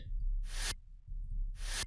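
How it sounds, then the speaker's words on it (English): Two short bursts of bright noise sweep through as a transition in an EDM drop, each lasting about a third of a second, separated by a low rumbling pause. "Then I also added this short sweep"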